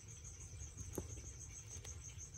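Steady insect chirping hums behind faint scratchy patter as a feeder cricket is offered to a tarantula, with a couple of soft close taps and no speech.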